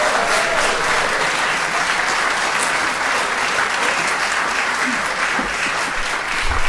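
Sustained audience applause at the Charleston Literary Festival following a poetry reading, a steady dense wash of clapping that stays loud and even throughout with no speech over it.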